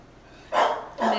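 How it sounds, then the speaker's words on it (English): A dog gives two loud, close barks in quick succession outdoors along a road, each a short sharp burst with a brief pause between, and no one speaks over them. "And then Ginger starts barking."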